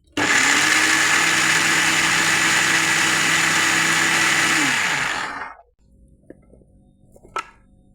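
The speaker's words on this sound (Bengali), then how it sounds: "এই যে সব কিছু মিশিয়ে নিয়েছি, এবার ব্লেন্ড করে নেব।" An electric blender whirs loudly and steadily while blending a barfi mixture made with powdered milk, running for several seconds before winding down and stopping, followed by faint clatter.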